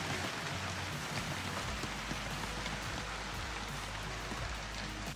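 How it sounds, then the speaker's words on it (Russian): Large hailstones of about 5–6 cm in diameter fall in Ontario, a dense steady hammering patter that stays loud and continuous throughout, with a low rumble beneath and no voices. "пару дней назад в Онтарио был еще и град, и все бы ничего, если бы размер летящих с неба ледышек не был в 5-6 сантиметров в диаметре"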